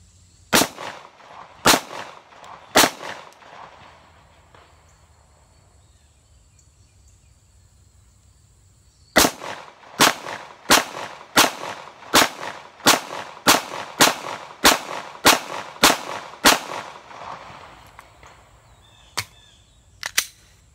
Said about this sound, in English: Gonna shoot off a few rounds and give you my review.